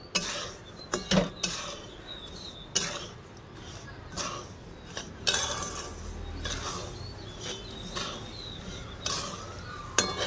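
Boiled and dried peanuts are stirred in a pan with a spoon, giving repeated scraping and clinking strokes at an irregular pace, fairly close and moderately loud.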